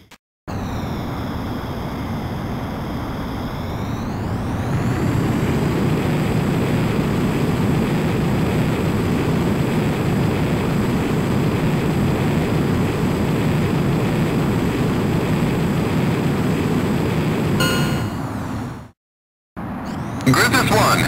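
F-35 jet engine in Ace Combat X spooling up as it takes off, a steady loud roar that rises in pitch after a few seconds and holds, then cuts out briefly near the end, with speech in the background.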